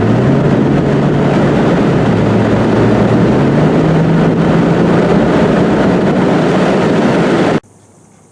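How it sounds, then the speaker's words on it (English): A 2019 Mazda MX-5 Miata convertible driving with the top down: loud, steady wind and road roar with a low engine drone underneath, continuous until it cuts off abruptly near the end. "This isn't the quietest convertible I've ever driven with the top down"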